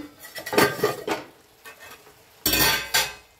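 A lid clatters off a pot of Bengali mourola fish chorchori, with metallic clanks and scraping in bursts, the loudest burst coming near the end, close and moderately loud.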